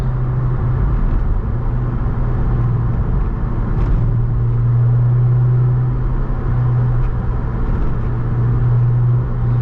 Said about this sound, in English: You hear the Supercharger a little bit better with the top up